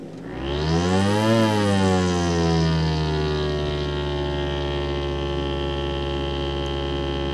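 A single sustained synthesizer note whose loudness, pitch and timbre all follow one envelope contour: it swells up and rises in pitch over the first second, falls back, then holds steadily and loud to the end, with no voices.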